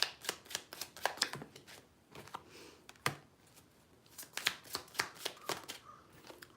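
A deck of Love and Romance Angels oracle cards is shuffled by hand in quick riffling bursts with short pauses, a crisp close flutter and snap of card stock.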